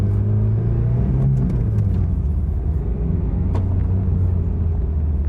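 A 1992 Isuzu Gemini Irmscher R Turbo, a right-hand-drive car, driving along with a steady low engine drone and road rumble, continuous and fairly loud, with no talking.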